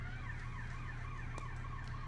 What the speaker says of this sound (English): Oh, there goes somebody's car alarm.